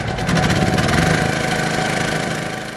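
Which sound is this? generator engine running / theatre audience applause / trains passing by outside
generator engine running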